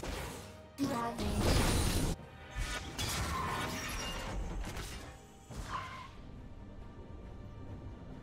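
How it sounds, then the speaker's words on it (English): A League of Legends turret is destroyed in a series of loud shattering crashes and heavy impacts, followed by a lingering, fading rumble of debris under a steady game soundscape. "Blue team's turret has been destroyed."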